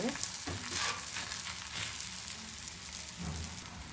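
Vegetable masala roti made from wheat flour and wrapped in banana leaf fries with a drop of oil on a hot tawa, giving a steady close sizzling hiss with a few soft crackles throughout.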